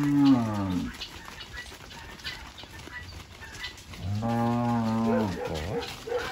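Cattle lowing on a farm, two long, loud, close moos, one at the start and a second, longer one after a stretch of quieter outdoor background noise.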